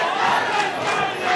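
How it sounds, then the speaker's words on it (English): Hometown crowd chanting for fighter Corey Crittenden at an MMA event, a loud continuous roar of voices rising and falling. "We can hear the chants for Corey as the hometown boy"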